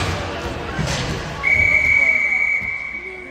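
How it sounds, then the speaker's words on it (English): A referee's whistle blows one long, piercing blast for about a second over the steady rumble of a crowd. "Super long and loud whistle."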